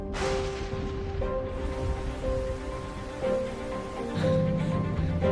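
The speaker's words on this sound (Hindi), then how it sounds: "इस वक्त इतनी तेज बारिश क्यों हो रही है?" Heavy rain pouring down in an animated Hindi drama, a constant hissing wash that runs throughout, layered with sustained tonal music and a few swelling accents.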